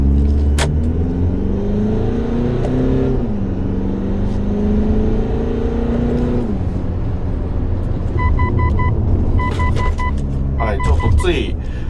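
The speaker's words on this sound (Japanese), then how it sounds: "ここ曲がったところからドカッと踏んでみます。" A Mitsubishi Delica D:5 turbo pulls hard up through the gears on an expressway, the engine drone rising in pitch, dropping at shifts and climbing again under a steady road roar, while someone talks throughout inside the cabin.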